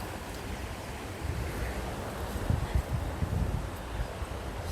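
Running water outdoors near a van, a continuous soft rushing wash with gusty wind and rustling on the microphone, swelling slightly louder partway through.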